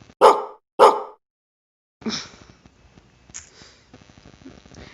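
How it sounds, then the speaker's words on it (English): Two loud, close dog barks in quick succession, followed by quieter rustling and sniffing sounds. "I heard a dog bark from behind"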